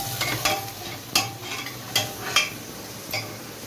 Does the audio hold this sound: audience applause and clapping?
no